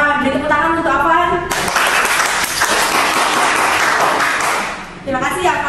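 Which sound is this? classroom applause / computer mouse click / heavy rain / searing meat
classroom applause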